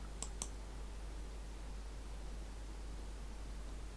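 Two quick computer mouse clicks close together near the start, made while opening a text field and pressing Play on a school journal website, then only faint steady hiss.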